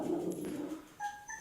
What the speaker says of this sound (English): dog is freaking out for no reason